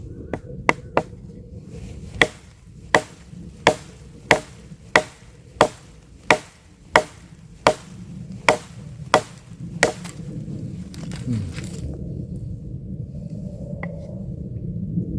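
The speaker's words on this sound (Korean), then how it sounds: "이번엔 나무를 이용해서 바토닝을 하면서 한번 나무를 또 한번 잘라 보겠습니다" A series of sharp, regular knocks as a Ganzo G8012 V2 survival knife is batoned through wood, about a dozen evenly spaced strikes, then quieter rustling after they stop.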